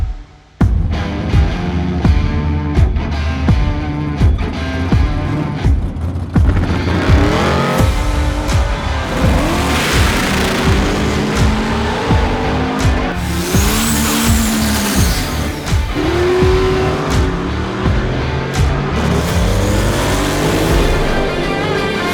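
Tesla Plaid electric drag car at a drag strip during Sick Week 2022, tires squealing and skidding over a loud sustained whine of launching and accelerating, with dense car and racing noise all around.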